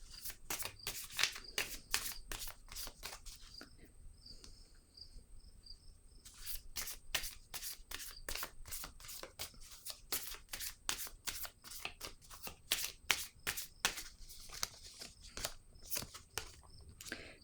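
Playing cards are shuffled and drawn in a rapid series of crisp, close riffling flicks, with a short quieter pause partway through, against a faint steady background hum.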